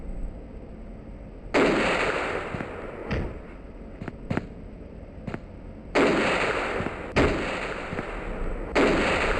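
Gunshots aimed at a zombie rabbit in the Silver Falls game, several loud booming blasts with long reverberant tails, widely spaced and irregular, with a few faint clicks between them and no voices.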